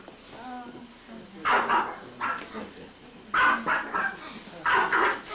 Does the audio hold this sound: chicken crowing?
no